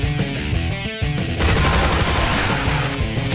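Chaingunner enemies firing rapid machine-gun bursts in Doom 2 running the Project Brutality mod, dense loud rattling shots layered over heavy game music with brief pauses between volleys.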